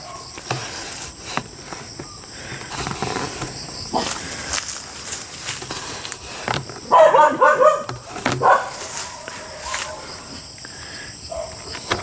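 A few sharp dog barks burst out in a short cluster midway, over a steady outdoor background with faint insect-like hiss.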